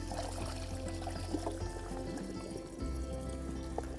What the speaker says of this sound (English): now it's just a question of filling it up with our water